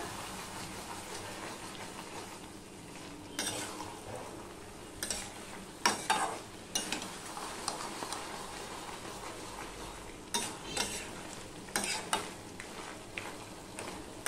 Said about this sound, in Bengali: সম্পূর্ণটা আমি মিশিয়ে নেব চিনির সাথে সবজিটা